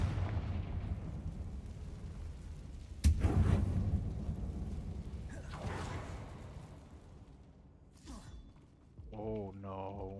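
Confringo spell blast in the video game Hogwarts Legacy, set in an old mine: a sharp booming burst with a rumbling tail amid game ambience, then lighter crackles and a tonal game sound near the end.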